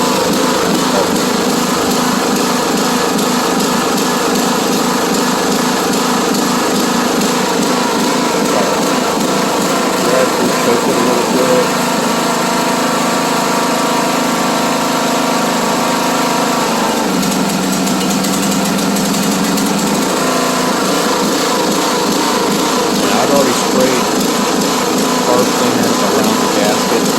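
A John Deere E100 riding lawn mower engine idles roughly, its steady drone wavering and stumbling, loud and close throughout with no voices.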